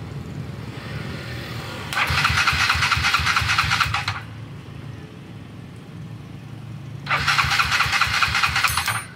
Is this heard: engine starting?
yes